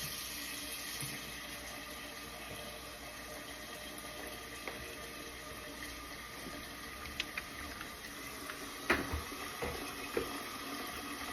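Water runs steadily from a tap into a pot, a quiet continuous rush with a few soft clinks near the end.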